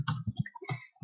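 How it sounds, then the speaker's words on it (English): Rapid clicking keystrokes on a computer keyboard while writing HTML and CSS code, a quick uneven run of close taps. "you should see what I'm typing here."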